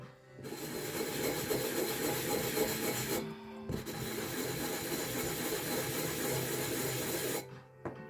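Steady, raspy rubbing strokes of a sanding block scrape back and forth over glass drinkware, a dry continuous grinding that pauses briefly twice.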